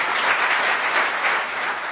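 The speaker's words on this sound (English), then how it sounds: "please give them a round of applause as I welcome them" An audience applauds to welcome a speaker at a panel discussion, a dense, steady wash of clapping that holds at full strength throughout.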